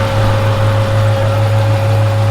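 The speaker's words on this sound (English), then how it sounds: "It's like puffing exhaust out of there." A car idles loudly up close, its exhaust leak giving off a rapid, even puffing throb over the steady engine hum.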